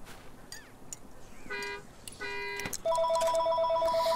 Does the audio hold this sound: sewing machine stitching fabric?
no